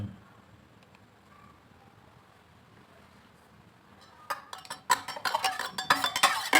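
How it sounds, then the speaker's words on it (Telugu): Metal spoon clinking and scraping against a steel bowl or pan as turmeric is stirred into groundnut oil for mango pickle, starting after a quiet stretch and growing into steady, close, brisk clattering. "పసుపు వేసి ఇలా కలుపుకోవాలి"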